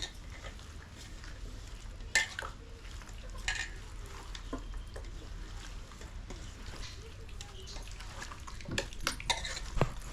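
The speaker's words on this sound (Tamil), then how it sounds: "இப்போ அதையும் சேர்த்து நம்ம நல்லா கலந்து விட்டுருவோம்." A fish masala mixture with raw egg is stirred in a pan, giving a steady soft scraping and sizzling close by, with a few sharper utensil knocks against the pan.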